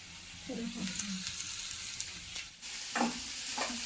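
Crabs frying in a pan for a village-style crab curry, stirred with a spoon: soft steady sizzling broken by a few scraping stirs, fairly quiet and close.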